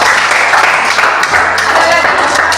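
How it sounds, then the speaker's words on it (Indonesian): Classroom applause from a group of students, dense steady clapping filling the room at close range, loud and continuous for a couple of seconds. "Oke, bagus, tepuk tangan."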